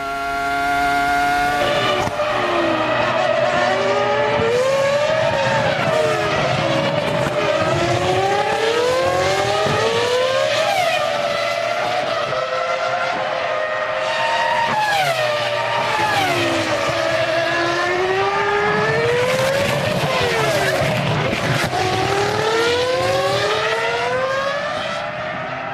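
Formula 1 cars racing at the 2004 Bahrain Grand Prix, with loud, close engine wails repeatedly climbing and dropping in pitch through gear changes as several cars pass in succession, a constant roar throughout.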